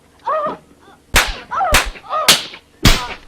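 Dubbed-in slap sound effects from a 1972 giallo film: four loud, sharp cracks land at irregular intervals, each following a woman's cries, sobs and gasps.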